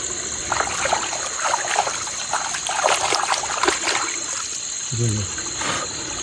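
Water trickles and splashes while freshly caught mud crabs are washed outdoors, with an irregular nearby dribble and a brief voice partway through.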